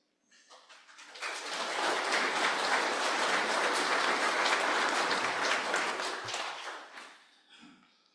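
An audience breaks into sustained applause during a speech, rising quickly, holding as a dense, bright wall of clapping for several seconds, then tapering off into scattered claps before quiet returns.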